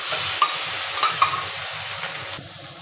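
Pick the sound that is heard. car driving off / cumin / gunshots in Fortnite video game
cumin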